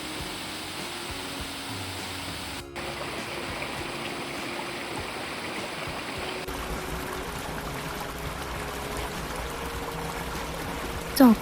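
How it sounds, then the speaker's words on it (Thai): A forest waterfall heard from the trail in Prachuap Khiri Khan, a faint, steady rushing of falling water forming a continuous background hiss with no voices over it. "แล้วก็เริ่มได้ยินเสียงน้ำตกแล้วค่ะ"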